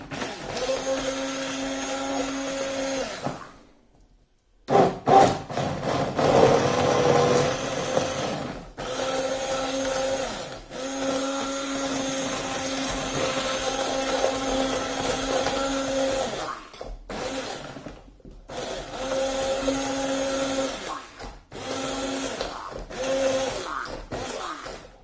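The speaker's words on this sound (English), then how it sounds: "I'm using my stick blender." A stick blender blitzing chicken parmigiana sauce ingredients runs loud and steady for most of the stretch, with a short gap near the start and a few brief pauses later.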